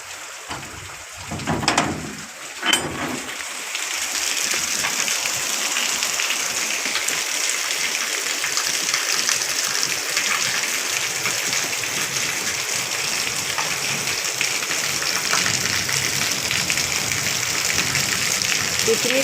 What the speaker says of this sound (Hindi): एक झलक आपको ना बारिश की मैं दिखा देती हूँ कि कितनी तेज़ बारिश हो रही है।